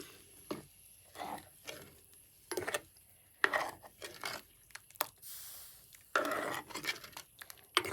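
Curry with ground coconut paste being stirred in a pot, a spoon scraping and clinking against the metal in short irregular bursts, close by and moderately quiet, with no voices.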